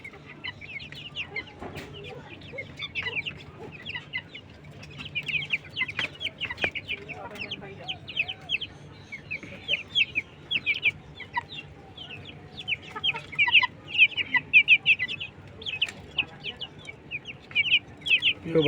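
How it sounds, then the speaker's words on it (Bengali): Silkie chicken chicks cluck and peep in a steady, busy chorus, many small birds calling close by in overlapping bursts with no talk over them. "খুবই সুন্দর মানের সিল্কি মুরগির বাচ্চাগুলো দেখেন।"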